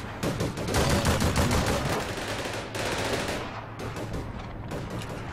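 Two light machine guns in APB Reloaded rattle off long, overlapping bursts of rapid automatic fire, loud and close, easing slightly toward the end.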